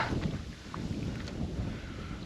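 Steady wind rushes and buffets across the microphone in a low, continuous roar, with no voices.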